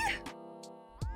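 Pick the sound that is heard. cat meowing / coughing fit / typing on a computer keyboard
cat meowing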